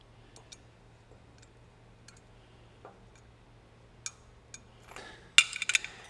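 A few faint metallic clicks and clinks from tools tightening nuts and bolts while assembling a Valor Fitness BE-11 Smith machine, sparse at first and then clustered near the end over a quiet background.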